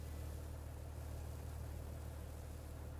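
Tractor engine in the video game Farming Simulator 19, a faint, steady low idling rumble that holds unchanged for the whole stretch with no talk over it.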